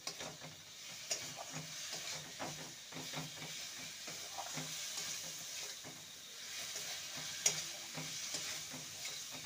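Prawns and spice paste being stirred in a hot pan for a taro and prawn curry, a soft steady sizzle with a spoon scraping and turning continuously, fairly quiet.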